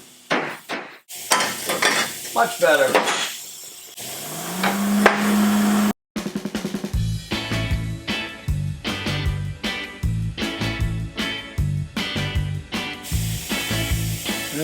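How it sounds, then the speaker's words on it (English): A hammer beats a custom exhaust for a 2022 Trog race car into shape: a steady run of loud, close metallic strikes in quick rhythm, after a brief spoken remark and some shop clatter. "Grab a hammer and kind of see if I can work this shape a little bit."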